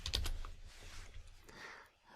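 A brief burst of quick keystrokes on a computer keyboard, soft and close, over a low room rumble that then fades into near silence.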